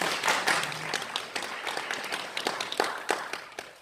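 A church congregation claps to welcome a new member, a moderate burst of many hands applauding that stays fairly even throughout, with a brief voice early on.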